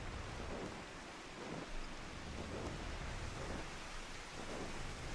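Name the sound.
heavy rain in Final Fantasy XIV video game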